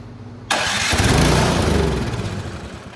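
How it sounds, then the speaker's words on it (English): A Craftsman 179cc snowblower engine, with a clogged carburetor, bursts into life after a second of quiet and runs roughly and loudly, its revving sagging slightly toward the end. "See how it starts and then it dies?"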